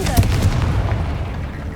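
Confringo spell explosion in the video game Hogwarts Legacy: a loud, booming blast with a short thump near the start that fades into a rumbling tail.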